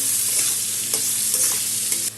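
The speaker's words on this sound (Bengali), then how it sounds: "আলুটা ভেজে নেব আগে।" Potatoes fry in a pan with salt and turmeric, giving a steady close sizzle with a few soft stirring scrapes, no voices.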